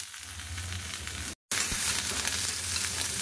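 Potatoes and small pointed gourd frying together in a pan for a Bengali chorchori, a steady close sizzle with faint stirring scrapes, broken by a brief silent cut before the frying resumes.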